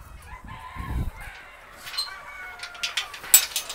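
Chickens cluck and call inside a poultry shed on a farm hit by a viral disease, a few low thumps early, then scattered clucks and squawks growing busier and louder toward the end, with no talking.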